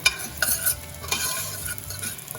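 Ingredients for cauliflower soup cook in a pot with a close, steady sizzle and quick spoon stirring, punctuated by light clinks, with no speech.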